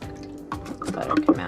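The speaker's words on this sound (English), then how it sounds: "you're gonna pour the buttermilk through that, like this" Homemade buttermilk poured through a fine mesh strainer, a short close run of drips and small liquid splashes and trickles, brief and without talk.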